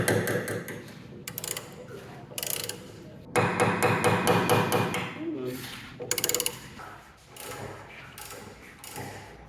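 New, slightly oversized tuning pins are driven into a player piano being restored in Rwanda, giving sharp metallic hammer blows in irregular clusters and rapid bursts, with speech occurring in the clip.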